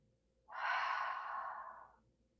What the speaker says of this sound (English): Just breathe naturally.